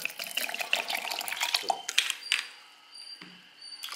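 Water runs and splashes into a jug of milk, sugar and cardamom for a couple of seconds, then trails off into quieter drips and clinks.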